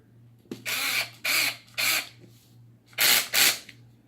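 A cordless drill whirs in five short bursts driving screws into a beadlock RC wheel, each lasting a fraction of a second, close by with a steady low hum underneath.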